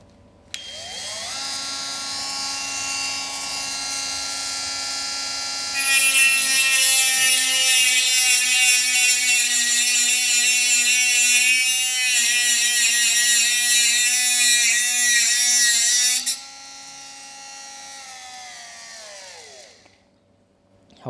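A Mollar CMG12125A cordless mini die grinder whines at maximum speed, then its pitch thickens into a harsher, louder grind as it cuts through a 2-inch nail for about ten seconds, before spinning down alone.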